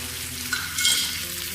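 Bitter gourd seasoned with fennel powder and sugar is stirred in a hot pan. A brief, close sizzle swells with one quick scrape in the middle, and no voices are heard.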